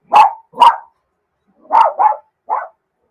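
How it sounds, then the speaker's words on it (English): A dog barks five times, loud and close: two sharp barks, a pause, then a quick pair and a final softer bark, with silence between them. "This dog is disrespectful."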